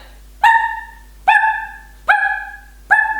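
A person vocally imitates a chihuahua's grating bark, four evenly spaced, sharp nasal yaps about a second apart, close and fairly loud with nothing else heard.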